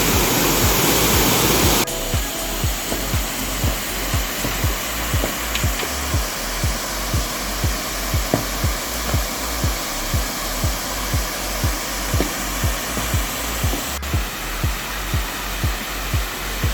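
A small waterfall in a village in the Sahyadri hills gushes forcefully after recent rain, a loud, steady roar of falling water with faint rhythmic thumps beneath it.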